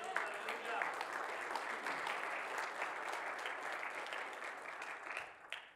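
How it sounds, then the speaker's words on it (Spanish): A church congregation claps together in praise to God, a sustained, dense wash of applause that holds steady for several seconds before tapering off at the end. "Un aplauso a nuestro Dios"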